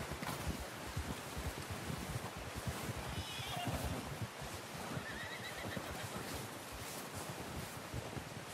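A horse whinnies in Red Dead Redemption 2, a rising, breathy neigh heard mid-clip over a constant wash of wind-like ambience and faint hoof steps, moderately close.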